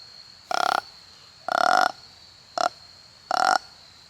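A custom deer grunt call blown in four short, close, guttural grunts of varying length, isolated over quiet background with brief pauses between them.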